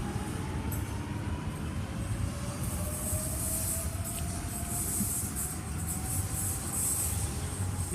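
A Sydney M12 train departing platform 2 at Sydenham station, a continuous rolling rumble with high, drawn-out wheel squeal rising and fading, close and fairly loud with no talk.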